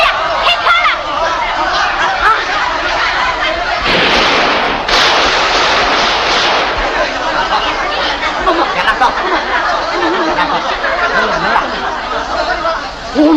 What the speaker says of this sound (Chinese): 哎呀，开枪了！